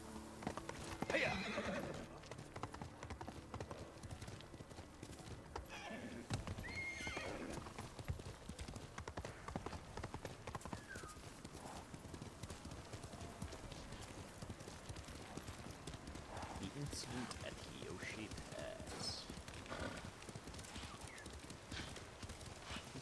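Horse hooves clip-clop in a steady galloping rhythm, with a whinny early on and occasional voices over the gait in the video game Ghost of Tsushima.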